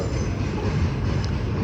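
A Class 375 electric train rolls into London Charing Cross station, a loud, close, steady rumble of wheels and motors on the rails.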